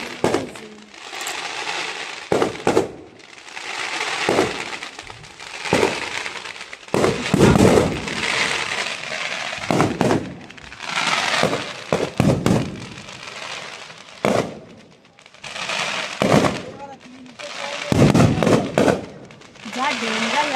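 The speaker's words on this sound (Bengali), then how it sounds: "দেখো এখানে বাজি ফাটাচ্ছে" Fireworks burst outside in a rapid, irregular string of crackling pops and bangs, some close and loud, with a voice talking over them.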